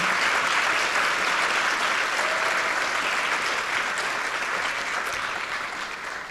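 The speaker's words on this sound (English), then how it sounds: "Let's give a round of applause to our new members of Beta." Sustained applause from a high school audience at an honors tapping ceremony for new Beta Club members, a dense steady wash of many hands clapping that stays loud throughout and eases slightly toward the end.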